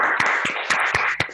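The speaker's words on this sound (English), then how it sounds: "Can we all give him a round of applause," A small group at a Toastmasters meeting claps briefly after a speech. The hand claps are few and distinct, each one sharp and close, in an uneven rhythm over a short burst.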